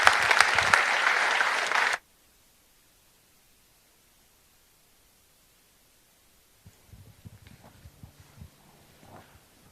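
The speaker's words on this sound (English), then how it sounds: "So I just want to give them all a round of applause." Audience applause at the Enterprise Cayman 2023 Business Design Competition for the presenters, a dense burst of clapping that stops abruptly after about two seconds, followed by near silence and then faint scattered shuffling noises.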